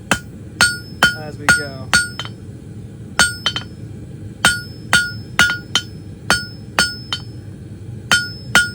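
Hot steel being hammered on an anvil to forge a beginner's hook taper, with sharp ringing blows in quick bursts of two or three, pausing between groups, close and loud. A voice briefly speaks over it.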